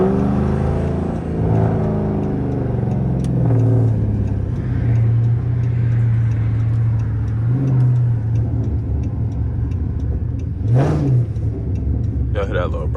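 A 400+ hp Dodge Charger R/T growls low and loud from inside the cabin while driving, its exhaust rising briefly then settling into a rumbling burble, with people talking over it.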